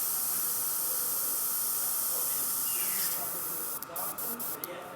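An airbrush sprays a continuous, loud, even hiss that holds steady for several seconds, then breaks into a few short, sputtering bursts at the end.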